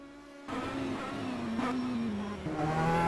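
GT3 race car in an endurance racing video game drives into the pit lane, its engine droning steadily with a shifting pitch, alone and fairly faint.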